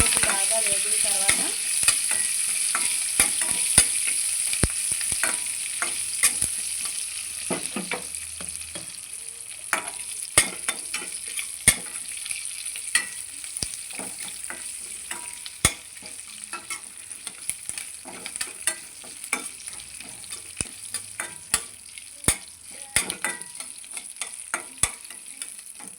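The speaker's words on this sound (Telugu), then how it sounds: "చూడండి, పోపు బాగా వేగింది కదా" Mustard seeds, dried red chillies and curry leaves crackle and sizzle in hot oil for a tempering, with steady frying hiss, scattered sharp pops and occasional stirring clicks, close and alone without talk.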